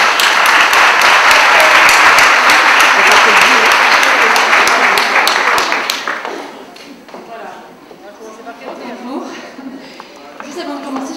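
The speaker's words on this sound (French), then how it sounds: "on va déjà les applaudir pour leur courage." Applause from a colloquium audience, loud and dense for about six seconds, then fading abruptly into scattered claps and quiet murmuring voices.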